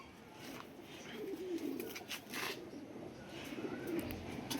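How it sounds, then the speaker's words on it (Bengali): Pigeons from a tournament-racing loft coo softly and repeatedly in the background, a low murmuring under steady ambient noise with no clear talk. "খুব সুন্দর একটা কবুতর"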